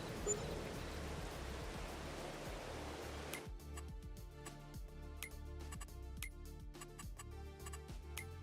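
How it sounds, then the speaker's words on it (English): Steady rain in the video game Farming Simulator 22, a soft continuous hiss with scattered ticking drops, shifting partway through to a drier patter with sharper, more distinct taps; no speech. "Well, rain in December is good."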